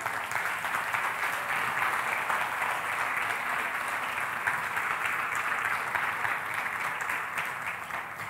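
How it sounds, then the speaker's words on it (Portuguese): A church congregation applauds during an evening service, a dense, even roar of many hands clapping that holds steady and fairly distant for about eight seconds. "Pode aplaudir."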